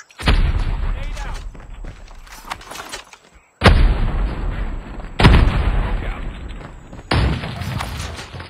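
Frag grenade and battle explosions in Call of Duty Mobile: several loud booms and heavy bursts of gunfire in separate blasts, with game voice callouts between them.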